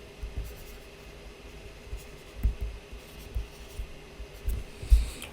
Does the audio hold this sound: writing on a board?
yes